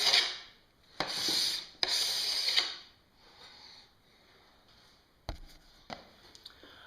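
A damaged snowboard base is scraped in several short, rough rubbing strokes close up, a gritty hiss separated by brief pauses and light taps.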